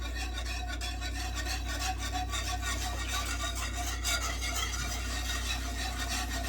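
Cream cheese being stirred in a pot, a steady scraping, rubbing texture that runs continuously and close up, with no pauses and no talk over it.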